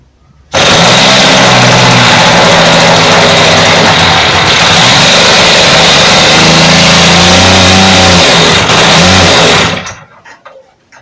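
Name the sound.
RC model glow engine running and revving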